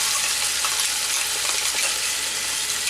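Tomato paste sizzles steadily in a hot pan for a shahi paneer, a dense crackling hiss broken by light scraping as it is stirred.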